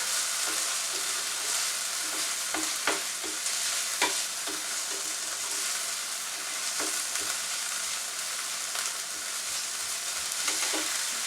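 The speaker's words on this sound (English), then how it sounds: "we're just going to cook this a little bit until there's no more rawness to the garlic" Minced jarred garlic cooks in a pan with a steady, close sizzle, broken by sharp clicks and taps of a utensil stirring it, and no one talks.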